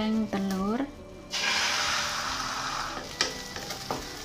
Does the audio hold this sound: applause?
no